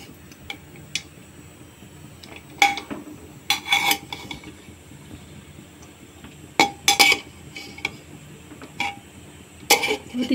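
A spoon scrapes and clinks against a pot while cooked mutton biryani is mixed from the edges. There are four or five sharp, bright knocks spread over a quiet background, with no talking.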